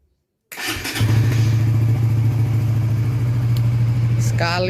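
A motorcycle running on a small TDR lithium battery starts after a short crank and settles straight into a loud, steady close-up idle, with a voice talking briefly near the end.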